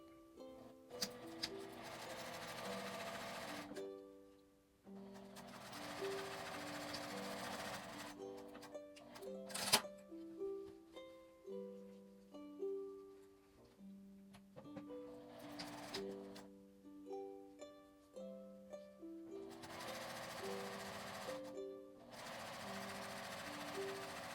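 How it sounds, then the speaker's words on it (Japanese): Sewing machine stitching fabric for a pocket tissue pouch, running in several bursts of steady mechanical whirring and clatter separated by short pauses, close and clear. "両端を合わせて1センチの縫い代で縫います。"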